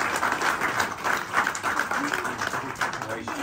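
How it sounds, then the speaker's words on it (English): Wedding guests break into applause, a scattered, lively patter of clapping hands close by, mixed with voices speaking over it. "Give them a round of applause,"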